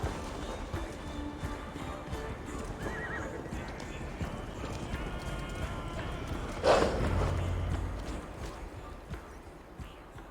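Horse hooves clip-clopping at a run in the Viking-era video game Assassin's Creed Valhalla, with a whinny and a louder burst partway through, all under steady game ambience and some talk.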